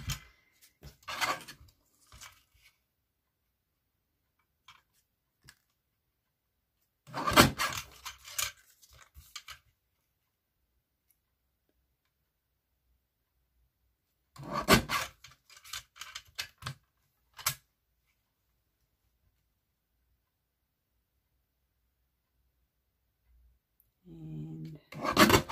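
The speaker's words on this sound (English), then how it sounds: "So I'll just bring in my little mini guillotine." A mini paper guillotine trimming card, with several short bursts of cutting and sliding clicks separated by long quiet gaps, close and crisp with no talk.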